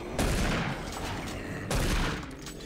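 Rapid gunfire from a weapon in the first-person shooter game Doom 3 BFG Edition crackles in dense bursts with heavy booming impacts, loud and continuous throughout with no voice over it.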